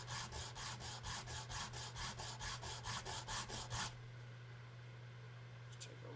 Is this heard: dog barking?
no